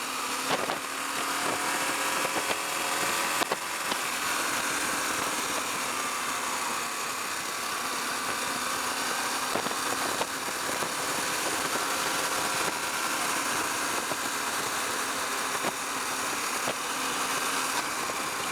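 A KTM 890 Adventure R motorcycle engine drones steadily while cruising down the road, a continuous mid-pitched hum with faint wind noise, close and alone without any talking.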